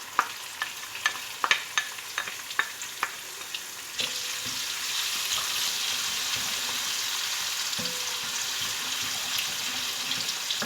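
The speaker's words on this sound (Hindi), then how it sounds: "इन सब चीज़ों को अच्छी तरह से हम फ्राई करेंगे।" Chilies, ginger and garlic frying for masala bhindi, with a run of sharp utensil clicks and stirring taps at first, then a steady sizzling hiss close by and a faint low hum.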